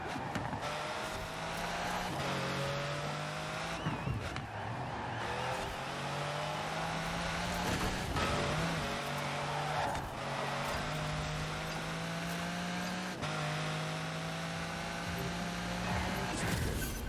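Pagani Zonda Cinque in the racing game Forza Horizon 4, its engine note rising and falling through repeated gear shifts, loud and continuous with no speech.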